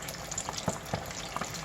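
Chicken hot wings fry in a pan, two or three at a time, giving a steady soft sizzle with a few small pops and crackles throughout, with no talking.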